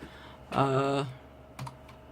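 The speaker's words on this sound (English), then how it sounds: "you just type either Wacom tablet properties" Keys tapped on a computer keyboard while searching for Wacom tablet properties, a short burst of close clicks followed by a couple of isolated taps, with no speech.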